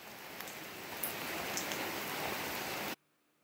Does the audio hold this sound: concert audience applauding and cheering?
no